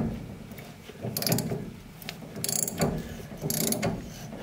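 A ratchet wrench loosens a rusted nut on a Squarebody C30 truck, three bursts of quick clicking with short pauses between them, close and fairly loud against faint shop background.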